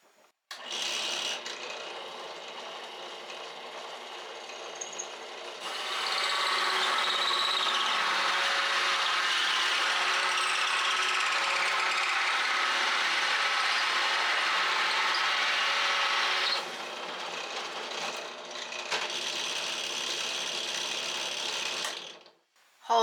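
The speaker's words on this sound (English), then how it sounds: "made those marks so that I could just drill out my holes right down the line" A power drill whirs steadily into wood, a long continuous grinding run in the middle with shorter bursts before and after, loud and close.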